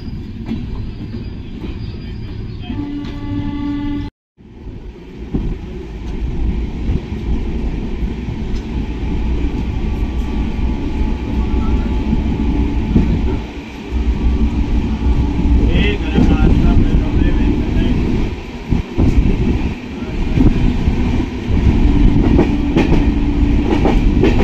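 Indian Railways passenger train running between Howrah and Ghatshila, heard from the open door: a steady, loud rumble of wheels and carriage with clattering rail joints, a brief drop near the start, then continuous roar throughout.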